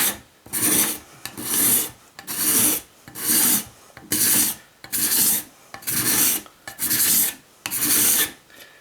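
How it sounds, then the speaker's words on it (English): A coarse cabinet scraper is drawn again and again across a cut in wood on a traditional workbench. About nine steady rasping strokes follow one another at a regular pace, loud and close, with no voice. "So all I'm going to do is take this cabinet scraper and I'll just clean up the cut."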